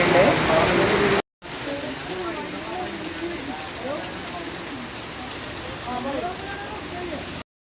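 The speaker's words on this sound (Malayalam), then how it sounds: "മഴ വന്നപ്പോൾ ഞങ്ങളിവിടെ നിൽക്കുകയാണ്" Steady rain falls during a roadside stop on a Royal Enfield bullet bike ride, a constant hiss with voices talking faintly under it after a brief opening burst.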